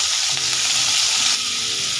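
Potatoes and drumstick pieces frying in a pan over a gas flame, a loud, steady close-up sizzle with faint stirring throughout.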